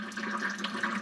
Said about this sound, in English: somebody just punched a friggin' hole in the tank. So we're gonna let that drip for a while.